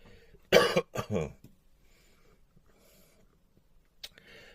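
Two or three harsh coughs in quick succession up close, then quiet breathing and a faint later cough-like burst.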